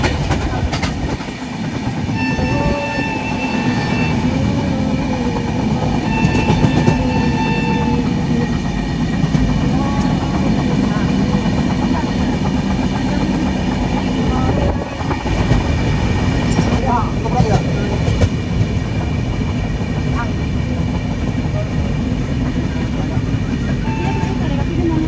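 Inside the Agniveena Express, an Asansol to Howrah superfast train, as it runs on the rails into Andal: a loud, steady rumble with rhythmic clickety-clack and metallic squeals, and voices faintly in the background.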